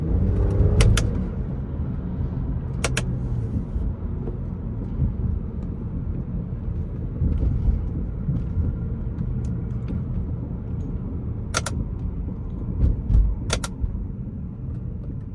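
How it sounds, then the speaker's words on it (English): Interior drive in a BMW E9X with paddle shifters: a steady low engine and road rumble throughout, with a few sharp clicks, likely paddle pulls, standing out briefly near the start and toward the end. "I'm just going to do a couple more minutes of POV driving with the paddle shifters"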